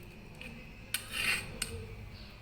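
A spoon clinks and scrapes against a plate of palak (spinach) rice made with ginger, garlic and onion, two sharp taps bracketing a brief scraping rub, quiet and close in an otherwise calm kitchen.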